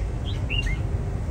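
A red-whiskered bulbul, a strong singing bird kept for competition, gives a few quick bright chirping notes over faint background hiss, close but soft.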